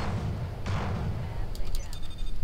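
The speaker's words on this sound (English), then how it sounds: "S-type torpedo, come online right now. Torpedoes away." S-type torpedoes fire in the Star Fleet Command space combat game, a single muffled thump followed by a few sharp electronic blips over a steady low rumble.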